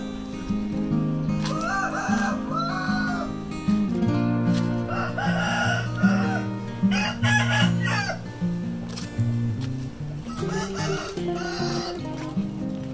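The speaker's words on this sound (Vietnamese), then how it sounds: "Đây là mấy con gà chiến của ông." Fighting roosters at a farm crow loudly and repeatedly up close, their calls overlapping and mixed with clucking from the surrounding fowl.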